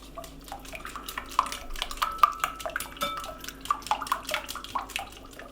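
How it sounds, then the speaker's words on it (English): Quick, busy clinking and tapping of a whisk against a bowl, steady rhythmic strokes as melted butter is whisked into pancake batter, close up with no talking. "Whisk the butter in."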